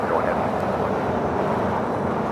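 An airliner rolls for takeoff on runway 25 right at LAX, a loud, steady engine roar that stays constant and close throughout, with a voice talking underneath.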